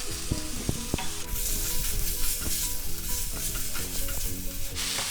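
Chicken strips tipped into a hot pan sizzle steadily while a spoon stirs them, with sharp scraping clicks early on and a broad hiss that grows louder after the first second, all without talk.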